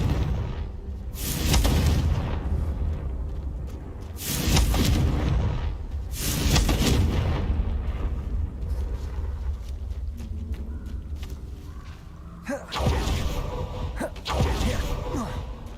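Confringo blasting spell in Hogwarts Legacy, heavy booming explosions that swell and roll in several waves, with a sharp crack near the end, loud and close.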